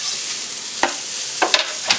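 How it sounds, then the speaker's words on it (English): Steady sizzling of sliced onions frying in an old cast iron pan on an induction stove, with a few sharp utensil scrapes and clicks breaking through the continuous hiss. "Ooh, love that sizzle."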